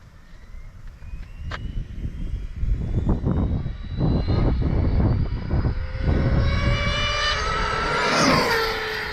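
An Arrma Mojave EXB RC car at full throttle on a top-speed run, its motor a high, rising whine that climbs steadily in pitch as it passes close by and stays loud over a rushing, noisy background.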